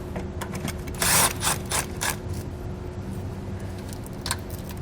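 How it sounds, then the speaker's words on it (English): A 10mm socket ratchet works a nut loose on a 2020 Chrysler Pacifica during a trailer hitch install, giving close, brisk bursts of metallic clicking and rubbing with short pauses between strokes. "Take a 10mm socket, we need to remove that nut"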